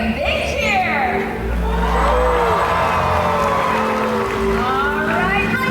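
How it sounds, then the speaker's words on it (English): A large stadium crowd at a SeaWorld whale jump show cheers and whoops loudly, a dense, sustained roar of voices with individual shouts rising above it. "let's give Trua a great big cheer!"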